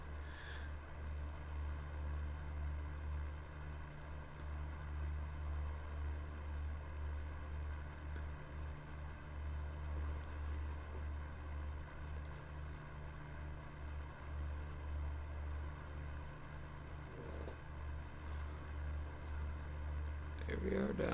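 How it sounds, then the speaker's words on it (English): Cessna 152 single-engine propeller plane in flight in a flight simulator game, a steady droning engine hum with a low throbbing tone, continuous and fairly quiet, no other sounds over it. "This Cessna 152 puts the fun in flying."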